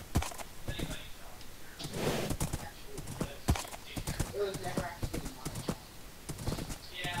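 Horse hooves clip-clop and a horse neighs in the Minecraft video game, with irregular hoof taps scattered through a noisy mix and a brief whinny, while people talk over it.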